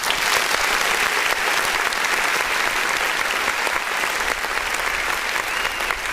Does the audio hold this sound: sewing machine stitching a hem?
no